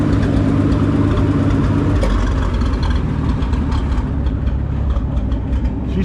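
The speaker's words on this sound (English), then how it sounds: "let's see how far we can get her to idle down" A GVI truck engine idling down, loud and close, a deep steady rumble that settles to a slightly lower, rougher idle partway through, with no talk.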